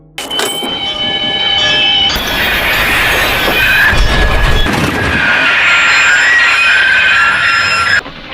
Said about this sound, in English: Mortimer stands and pulls the emergency brake, forcing the train to stop at Tucumcari